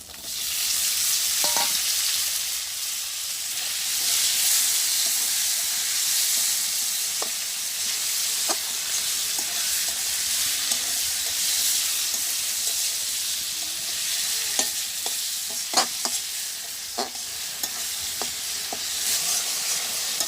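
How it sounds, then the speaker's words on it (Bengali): Spice masala with tomato frying in a pan, a steady loud hiss and sizzle with scattered spatula clicks and scrapes throughout, close up. "তো আমার মশলাটা সুন্দর করে কষানো হয়েছে"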